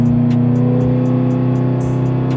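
An LSX 454 Impala engine running on a dyno under load: a loud, steady, close droning hum with a regular pulsing tick over it, alone without talk.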